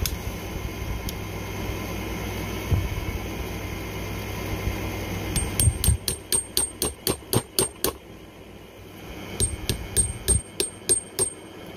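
A punch tapped with a hammer to drive a pin into a Ruger SR22 pistol, a run of about eight sharp evenly spaced metallic taps, a pause, then another quick series, close over faint background hum.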